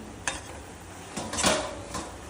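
A spoon scraping and knocking against a pot as mango and jaggery chutney is stirred on a low flame, a few close clinks and scrapes over a faint simmer.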